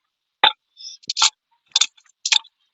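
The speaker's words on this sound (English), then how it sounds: "a vibra slap is a percussion instrument" A vibraslap rattle buzzes in several short bursts, each a quick clattering shake, separated by brief silences.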